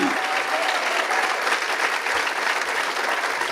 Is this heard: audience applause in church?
yes